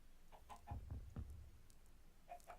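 Quiet, blocky clucking from a Minecraft chicken comes in a short burst of three or four notes, then one more cluck after a pause, faint against low background rumble.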